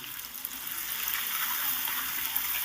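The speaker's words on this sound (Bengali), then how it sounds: "হলুদ আর লবণটা দিয়ে খুব সুন্দর করে আলুটাকে ভেজে নিতে হবে" Potatoes fry in a pan with salt and turmeric, giving a continuous hissing sizzle with a faint watery crackle throughout, steady and moderately loud.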